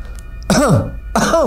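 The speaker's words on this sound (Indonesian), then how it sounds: "Saya batuk lagi" Two harsh, throaty coughs close up, separated by a short pause, with quiet in between.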